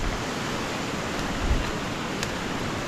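Swollen river water rushing steadily as a dense, continuous broadband roar, close and unbroken, with a couple of faint low thumps partway through and no voices.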